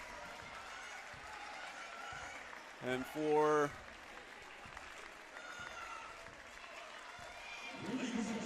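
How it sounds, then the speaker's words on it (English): Crowd at a men's college basketball game between Illinois Valley and South Suburban applauding the home team, a steady wash of clapping under commentator speech, with a brief louder burst and a tonal sound around the middle. "it looks like the crowd is starting to give a hand to the home team"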